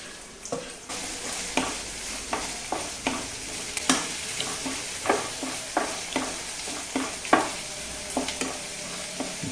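Chopped onion sizzles in hot oil in a kadai while being stirred, a steady frying hiss broken by regular scraping stir strokes about every second, close and moderately loud with no talk.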